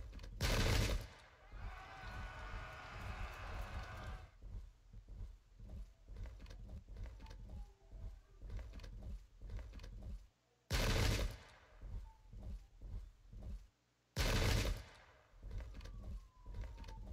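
Massed gunfire in the Sengoku Jidai strategy game at a battle of Anegawa, 1570: loud crackling volleys and scattered shots popping throughout, with several heavy bursts standing out amid the continuous battle din.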